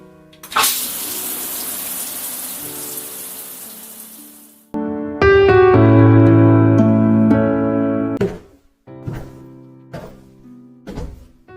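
Water gushes from a bath tap in a steady, loud rush for about four seconds before cutting off, followed by other clunks and household sounds.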